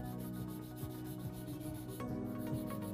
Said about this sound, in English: I'm going to take a 240 grit file and just hit the sidewalls one more time